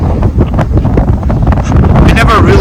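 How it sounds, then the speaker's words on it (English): Strong wind buffeting a microphone outdoors on a long-distance trail hike, a loud continuous rumbling roar with gusty surges, partly mixed with a voice talking over it. "I don't know if you guys will hear any of this because it's so windy"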